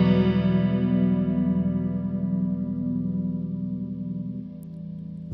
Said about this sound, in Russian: Хорус.